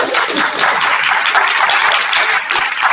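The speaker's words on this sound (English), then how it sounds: "Round of applause to the real hard workers of the afternoon" Forum attendees at an afternoon session keep up a loud, continuous round of clapping for the hard workers, with no talk over it.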